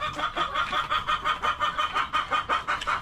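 Clucking from a breeding SBR gamefowl rooster, a rapid run of rhythmic, fairly loud calls repeating steadily over faint background noise, with no talking.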